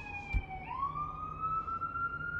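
An ambulance siren wails outside, a steady rising tone that swells and sustains as the vehicle passes, moderately distant behind room quiet.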